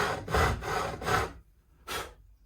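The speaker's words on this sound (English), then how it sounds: "holding the file down so it doesn't run over the top of the frets at any cost." A hand file rasps across guitar fret ends to bevel their edges, four close scraping strokes in quick rhythm followed by a pause and one more stroke.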